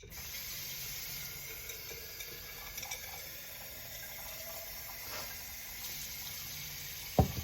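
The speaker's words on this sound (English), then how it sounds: "so we're just going to put some water in these." Water pours steadily over dried chickpeas set to soak, a close, continuous rushing splash lasting several seconds, with a brief clatter just before it ends.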